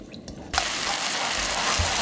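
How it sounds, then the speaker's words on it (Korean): Seasoning sauce with a little garlic and soup soy sauce comes to a boil in a pan, a sudden steady bubbling hiss that starts abruptly and continues close and loud. "양념이 바글바글바글 끓고 있죠?"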